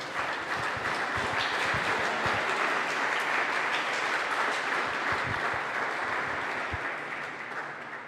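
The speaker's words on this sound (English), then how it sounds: "big round of applause for the runners-up" Crowd applause for the second-placed Galway team at a 60x30 softball handball doubles final, a dense steady clapping that runs the whole time, fairly loud and without talk.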